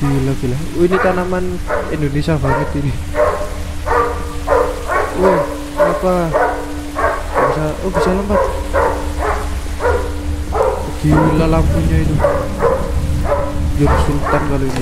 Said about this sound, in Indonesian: Ada anjing menggonggong di luar.